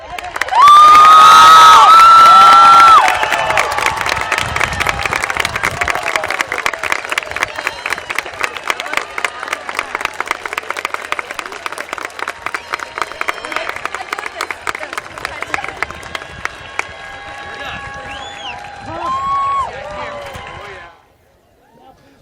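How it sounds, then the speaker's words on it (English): Crowd at the Triton High School class of 2018 graduation cheering and applauding the graduates: a loud burst of shouts and whistles at first, then sustained dense clapping with cheers and scattered shouting voices that gradually fades out. "Please stand and applaud the graduates of the class of 2018 of Triton High School."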